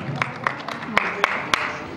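A handful of separate, sharp claps from guests at a family celebration, spaced about a quarter second apart like a few people starting to applaud, heard over a murmuring room.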